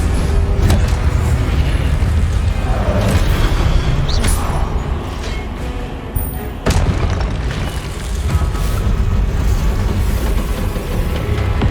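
Incendio fire spells cast repeatedly in Hogwarts Legacy combat, heard as loud, dense booming bursts that keep going with almost no pause, with a sharp blast near the middle.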